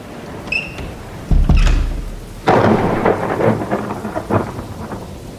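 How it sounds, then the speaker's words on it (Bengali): A heavy thunderstorm sets in: a deep close thunderclap rumbles, followed by a steady loud wash of downpour drumming on surfaces. "প্রচণ্ড জোরে বৃষ্টি শুরু হয়েছে।"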